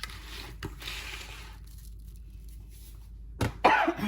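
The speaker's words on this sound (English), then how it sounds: "It's really annoying me keep coughing and sneezing." A few sharp coughs close by: a short one early, then two louder bursts near the end, with quiet room noise in between.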